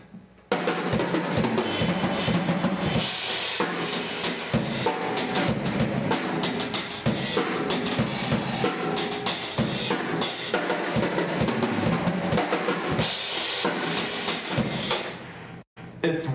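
Drum kit at a clinic playing a busy, fast fill with the strokes in between filled in, a dense, continuous wash of loud hits and cymbals that stays full throughout and drops out briefly near the end.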